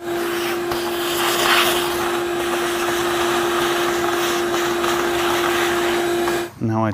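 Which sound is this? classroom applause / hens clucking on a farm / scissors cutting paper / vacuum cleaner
vacuum cleaner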